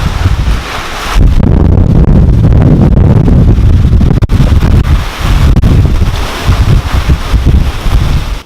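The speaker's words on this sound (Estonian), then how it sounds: "Jõhker tuul on praegu õues." Strong wind gusts batter the microphone outdoors, a dense roaring rush that swells sharply after the first second and stays loud and turbulent throughout, with no voices.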